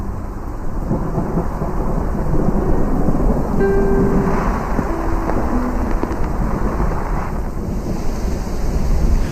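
Steady heavy rain from a brief but heavy rainy-season deluge in Niassa, Mozambique, with deep rumbling thunder rolling underneath, loud and continuous, with wind buffeting the microphone.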